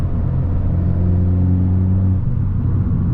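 A car with a five-speed manual gearbox pulls in fourth gear on a motorway, a steady deep engine drone with low rumble held loud and close, easing slightly toward the end.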